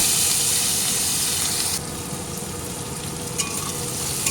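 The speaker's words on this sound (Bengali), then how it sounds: "পেঁয়াজটা ভাজা হয়ে এসছে" Chopped onions hiss and crackle steadily in a pan with cumin seeds, the sizzle easing slightly partway through, with a couple of soft spatula scrapes.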